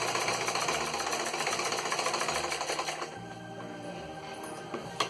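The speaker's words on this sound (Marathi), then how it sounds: "शिलाई मारताना कपडा हा घट्ट पकडायचा." A sewing machine stitches a purse, its needle hammering in a fast, continuous rhythmic chatter close up, easing slightly partway through, with no speech.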